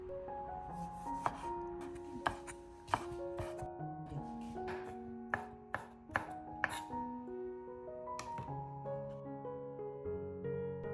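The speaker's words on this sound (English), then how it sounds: "Wash 3 tomatoes, then dice them so that they cook quickly" A knife dicing three washed tomatoes on a cutting board, a few crisp taps spaced irregularly beneath a steady bed of soft background music, no talk.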